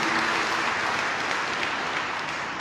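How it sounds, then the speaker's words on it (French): Steady applause from a congregation at a church sermon, dense, even clapping sustained at moderate volume throughout with no talking. "Je n'ai pas entendu ton applaudissement."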